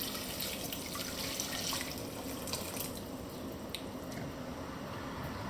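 About a quart of hot water poured steadily into a small pot with kombu for tonkotsu ramen, a continuous close splashing gush with faint trickles and no talk.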